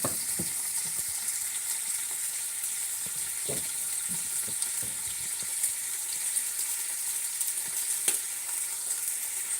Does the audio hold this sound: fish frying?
yes